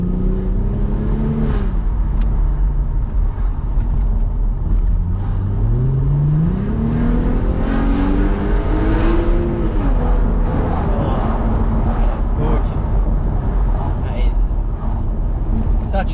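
Mercedes R230 SL 350 driving with the roof down, engine droning and rising and falling through gear changes, with wind rush around the open cabin and someone talking over it.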